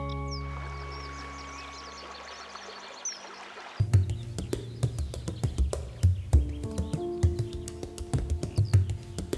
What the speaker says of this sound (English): the shallow seaside lakes with their abundant bird life